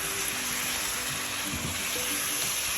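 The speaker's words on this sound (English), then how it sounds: "Now we're going to add a little bit of water so all the spices can cook." A splash of water hits hot spices in a pan for chicken korma, setting off a loud, continuous hiss and sizzle that holds steady throughout, with no one speaking.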